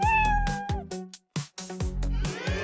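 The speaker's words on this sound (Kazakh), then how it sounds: "Мысық." A cat meows repeatedly, several drawn-out, loud meows in a row, close up with short pauses between them.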